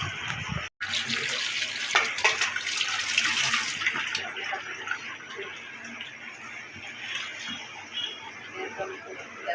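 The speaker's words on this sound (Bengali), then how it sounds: "এই জায়গায় পানি দিয়ে দিচ্ছি বিরিয়ানিতে দেওয়ার জন্য" Hot water gushes into a cooking pot of biryani after the masala is browned. A loud pour runs for a few seconds, then settles into a quieter trickle, with a voice talking over it.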